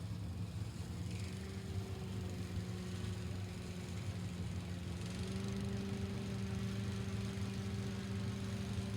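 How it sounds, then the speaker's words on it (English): A drag racing 1998 Pontiac Firebird with a 350 electronic fuel-injected engine idles steadily at an NHRA Division 3 event, a low, even rumble that continues throughout with a faint rise in pitch partway through. "Riley Stubblebean got that race car fired up"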